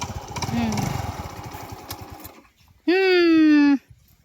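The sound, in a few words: motorcycle engine running after being started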